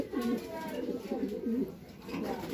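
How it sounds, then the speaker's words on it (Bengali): Soft, repeated cooing of a pigeon, low throaty rolling calls in several short phrases, close by and fairly quiet over faint background noise. "আমাদের কালো কবুতরের মধ্যে একটি"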